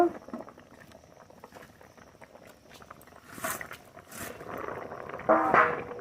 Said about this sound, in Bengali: ঝোল খুব ভালো করে ফুটিয়ে নিয়েছি, আলু গলে গেছে।